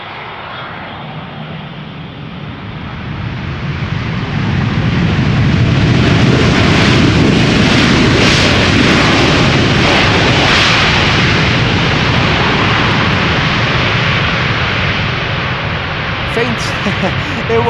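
A KLM Boeing 737 arriving from Geneva at Schiphol Airport passes overhead as a loud, broad jet roar that swells over several seconds, holds, then slowly eases away.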